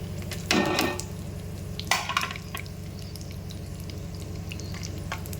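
Watermelon seeds and dry fruits frying in a pan for sheer khurma, a steady low sizzle with two brief bursts of stirring and scraping near the start, close and moderately quiet, no talking.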